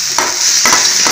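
Green peas roasting in a hot pan, a loud continuous sizzle with rhythmic scraping stirs of a spoon about every half second, close up and with no voices.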